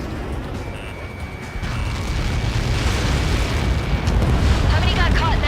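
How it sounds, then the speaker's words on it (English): A huge missile impact explosion in the combat flight video game Ace Combat 7, a loud sustained rumbling roar that grows stronger and keeps going, with a steady tone running through it. "How many got caught in that explosion?"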